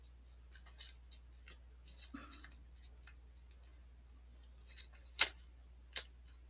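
Scissors snip the white border off a sheet of paper in a crafting session, producing a series of quiet, crisp, irregular clicks, with two sharper louder snips near the end.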